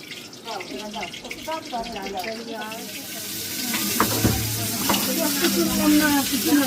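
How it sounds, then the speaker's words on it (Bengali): Cut fish sizzling in a pan, a steady frying hiss that grows louder and denser over the clip, with some stirring under it and a voice talking over it. "আমরা যে মাছ ধরছিলাম সেই মাছ এখন কাটিং করে ভাজি চলছে"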